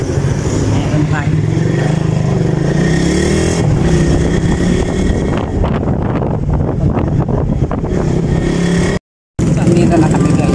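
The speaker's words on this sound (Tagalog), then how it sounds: "Dito na kami sa motor, napunta na kami na munisipyo." A motorcycle ride on town roads toward a municipal hall, with a continuous engine drone and heavy wind buffeting the microphone throughout, loud and close, with a brief dropout near the end.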